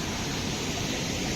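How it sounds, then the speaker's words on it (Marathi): Steady rushing roar of water at Kasmal waterfall near Pen, Raigad, a dense broadband wash filling the whole clip with no pauses and no voices. "इथे कासमाळ धबधबा आहे."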